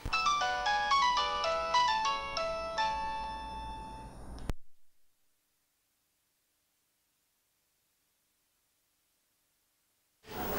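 A mobile phone ringtone plays a bright, chiming melodic tune for about four seconds and then cuts off abruptly, followed by near silence.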